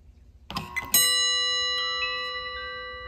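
A mechanical doorbell chime wired to a Ubiquiti G4 Pro doorbell button and transformer rings loud and close: a couple of brief clicks, then one sharp ding that rings out with a long, slowly fading metallic decay.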